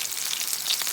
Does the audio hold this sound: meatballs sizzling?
yes